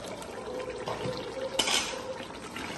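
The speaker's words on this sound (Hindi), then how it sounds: "अगर आपको इस स्टेज पे ग्रेवी थोड़ी ज़्यादा चाहिए तो थोड़ा सा हम इसके अंदर पानी भी ऐड कर सकते हैं" Half a cup of water pours into achari chicken gravy in a cooking pan, a soft liquid splash over a low kitchen hiss with a brief brighter gush midway and faint clinks of the pot.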